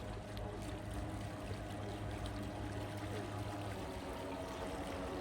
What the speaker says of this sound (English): Has that sort of purr of twin engines.